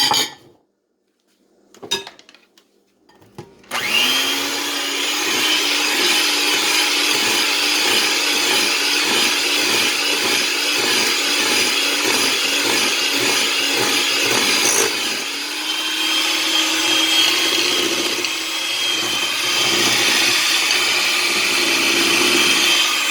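An electric mixer creams butter and sugar in a bowl for Amish cinnamon bread, a steady loud whirring drone with a scraping, rattling texture that briefly pauses midway, then resumes.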